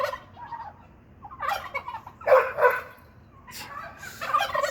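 Turkeys at a garden nursery gobble in several loud, rattling bursts close by, separated by short quiet gaps and low background noise.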